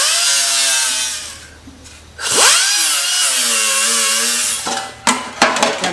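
A power grinder whines loudly while grinding off rivets on a Lotus Elise diffuser, its pitch dipping and rising as pressure changes, with sharp scraping bursts near the end.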